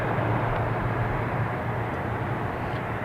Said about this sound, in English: ATR off to Birmingham